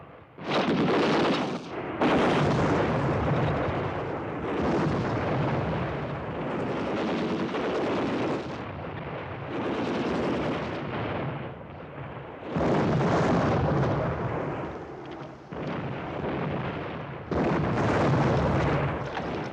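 Heavy, sustained bursts of gunfire, artillery fire and explosions, loud and continuous with brief lulls, like a battle raging nearby.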